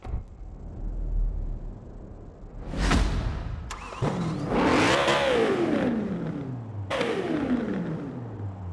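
A 2002 BMW M3 GTR in Forza Horizon 4 revs hard several times, the engine rising and falling in sharp bursts, close and loud with no talk.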